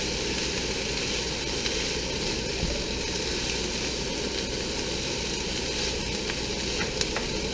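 Fried rice with garlic sizzles steadily in a hot pan as it is mixed, a continuous close crackling hiss with occasional faint scrapes of stirring and no talking.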